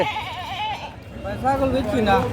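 Wavering goat bleats rise and fall over a busy crowd of voices at a cattle market in Kishoreganj, Bangladesh, with people talking throughout in a noisy outdoor setting.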